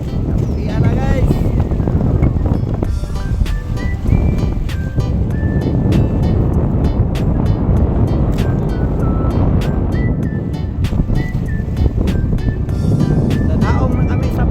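A pump boat travels from Talikud to Kaputian on Samal through big waves, its engine droning loudly and steadily with wind buffeting the microphone, while people talk over the noise throughout.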